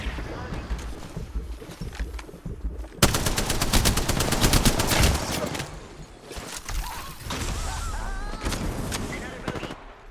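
Rapid bursts of gunfire ring out in the Apex Legends video game, sustained automatic volleys followed by scattered shots in a fierce firefight, with game effects and voices around.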